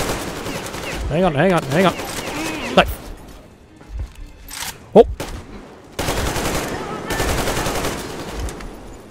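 Gunfire in the video game Metro Exodus crackles as rapid bursts and single sharp shots, with a tonal wavering game sound early on. Someone talks briefly over the fighting.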